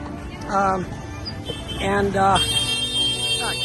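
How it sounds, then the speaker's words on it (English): Several car horns honk in short bursts over busy Mumbai street noise and nearby voices, with a long sustained horn tone near the end. "traffic everywhere, everybody honking"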